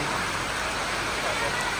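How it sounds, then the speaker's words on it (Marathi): Steady rain falls outdoors at a temple in the Konkan region, an even close hiss with no breaks. "भिजत जावं लागते, पाऊस पडतो."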